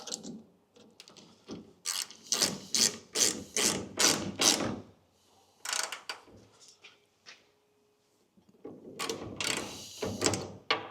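A hand ratchet clicks in rapid bursts while tightening a 1/2 inch nut on a Willys MB jeep, with a quick run of strokes, a pause with a few isolated clicks, then another fast burst; close and clear.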